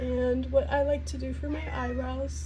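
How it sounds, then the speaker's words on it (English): A house cat meows in the background, a few short cries heard faintly under someone talking. "I am so sorry if you hear a cat in the background."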